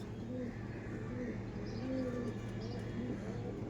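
Rampuri pigeons coo in a loft, several soft low cooing phrases repeating against a steady background hum, with a few faint higher chirps.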